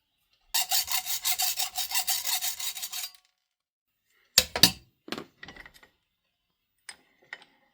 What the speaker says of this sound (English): Trim down a couple of these bolts